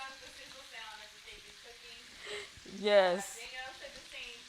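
Marbled steaks and shrimp frying in a hot pan give off a soft, steady sizzle beneath a speaking voice, with a brief louder crackle midway.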